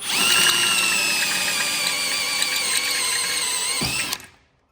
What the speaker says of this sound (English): I like these step bits because they don't grab like a normal drill bit.